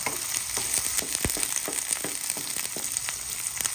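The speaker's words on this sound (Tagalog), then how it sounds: "Gisa-gisa lang po natin ang ating bawang sibuyas at ang ating luya." Garlic, onion and ginger sautéing in a pan for beef adobo, a constant close sizzle with light scraping and stirring knocks of a utensil, no voices.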